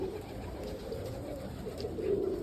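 Young roller pigeons inside a coop, soft low cooing and murmuring calls heard nearby over a steady background hum.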